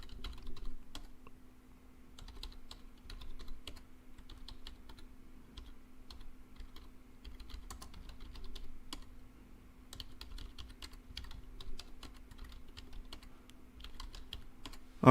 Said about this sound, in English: So I'm just going to type in some random names.